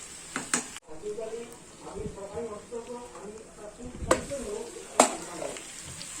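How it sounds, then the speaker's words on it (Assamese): Steady sizzling of meat and potatoes frying in hot oil on high flame, with occasional stirring clinks and scrapes, close by; faint voices may murmur underneath. "হাই ফ্লেমতে একদম তেল ওলাই যোৱাকৈ একদম পূৰা এনেকুৱাকৈ ভাজি ল'ব"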